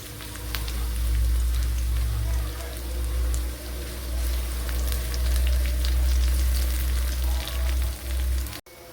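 Small onions sizzle steadily in hot oil over popped mustard seeds in a pan for a Kerala-style sardine curry, a continuous crackling hiss over a low hum with no talk.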